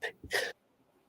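A single quick sneeze close by, a sharp intake followed by a burst, then quiet.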